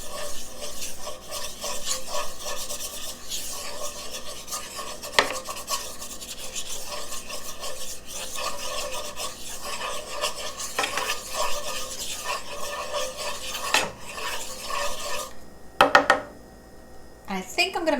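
A spoon stirs thickened vegan Swedish meatball sauce in a pan, giving a steady scraping, rubbing rasp with soft sizzle underneath, interrupted by a few sharper clinks near the end.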